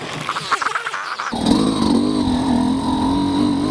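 A two-stroke motorcycle engine fitted with a SmartCarb SC2 carburetor, running on 50:1 synthetic two-stroke oil and 92-octane ethanol-free gasoline, rattles briefly then settles into a loud, steady buzzing drone with slight pitch wavering as it is ridden.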